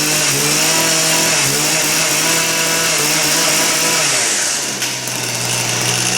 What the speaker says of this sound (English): if you just let it idle like this for a minute before you start your job